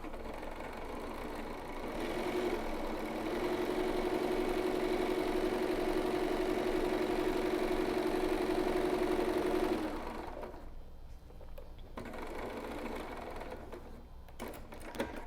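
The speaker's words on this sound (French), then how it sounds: "on va à la machine et on vient faire une couture droite à 1 cm" Sewing machine running steadily while stitching a straight seam on a pleated fabric mask, a continuous mechanical whir lasting several seconds before it stops, followed by quieter handling sounds.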